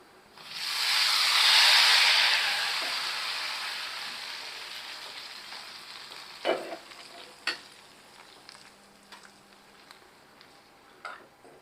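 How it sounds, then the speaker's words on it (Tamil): Hot tempering for a raw mango rasam gets poured into the pot with a loud burst of sizzling and hissing that slowly fades, followed by a few sharp clinks and taps of utensils. No one speaks. "இப்போ இந்த தாளிப்பை நம்ம ரசத்தோட சேர்த்துக்கலாம்."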